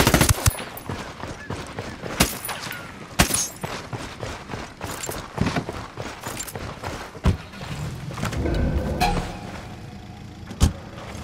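Gunfire in the Tom Clancy's Ghost Recon Wildlands video game crackles as scattered sharp shots and short bursts, some loud and close and others more distant, over a busy background of game ambience.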